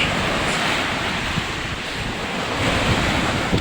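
Strong sea waves crash and wash under gusting wind, a dense, continuous rush with buffeting wind noise on the microphone, close and fairly loud with no speech.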